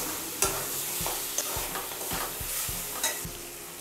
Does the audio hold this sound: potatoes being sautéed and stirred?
yes